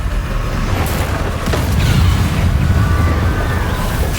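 A Confringo blasting spell goes off in the Hogwarts Legacy game, a dull low boom swelling near the middle over a steady rumbling, windy game background, with no voices over it.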